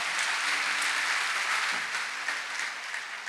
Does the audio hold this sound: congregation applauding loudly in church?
yes